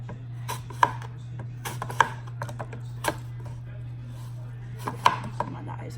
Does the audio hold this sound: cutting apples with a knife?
yes